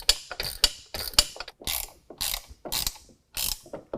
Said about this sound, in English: we're going to go ahead and tighten the load bar to the upright